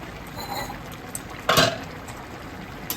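A metal lid comes off a pot of cooking rice, with a brief clatter and a burst of bubbling steam in the middle, over a quiet simmering background and a few small clinks.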